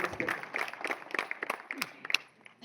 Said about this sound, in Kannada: ದಯಮಾಡಿ ಜೋರಾಗಿ ಚಪ್ಪಾಳೆ ಮುಖಾಂತರ ಅವರನ್ನು ಅಭಿನಂದಿಸಬೇಕು